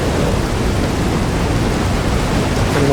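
A dense, steady wash of heavy rain with a low thunder rumble from a video game storm, even and continuous for a few seconds, with no voices.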